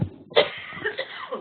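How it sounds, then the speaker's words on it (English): A woman coughs several times in a short coughing fit during a workplace presentation. The coughs are close and fairly loud, with a sharp burst partway through followed by smaller rasping coughs. "She's had a slight coughing attack"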